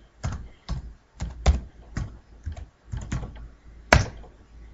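Computer keyboard typing during a mixed-media crafting livestream, a dozen or so separate clicky keystrokes in uneven bursts, close and crisp, with one sharper final tap and no talk.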